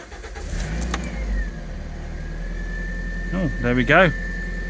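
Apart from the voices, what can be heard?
car engine starting and idling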